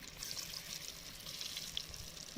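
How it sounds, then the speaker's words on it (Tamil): Cauliflower fries in hot oil with a soft, even bubbling hiss that stays faint and steady throughout, with no speech. "இந்த நேரத்தில் நம்ம மிக்ஸ் பண்ணி வச்சுருந்த காலிஃப்ளவரை சேர்த்து பொரித்து எடுத்துக்கலாம்."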